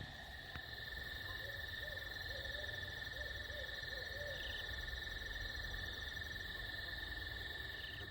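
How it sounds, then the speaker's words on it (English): A barred owl hoots in night woods, a series of low muffled calls at moderate distance, steady insect drone and croaking frogs filling the background throughout. "Oh, we got a barred owl."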